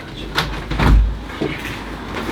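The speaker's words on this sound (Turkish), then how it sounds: "Açayım mı kapıyı?" A house door opened on a hot day, a short close rattle and slide of the door with a low thump, heard alone without talk.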